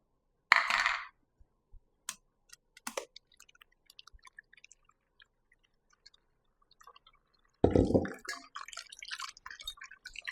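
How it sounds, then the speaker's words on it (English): Grated coconut being strained and squeezed by hand to press out coconut milk for a traditional Jamaican hominy corn porridge, giving wet squishing and dripping bursts at the start and again near the end, with sparse small drips between. "now I'm going to strain the coconut"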